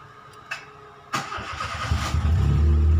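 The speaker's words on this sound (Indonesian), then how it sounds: "Dan itu gejalanya adalah jadi starter mau kayak begini nih starter." A manual Proton Savvy's starter motor cranks the engine with a whirring grind, a sharp onset followed by a loud, rising mechanical churn building toward the end, close by with no talking.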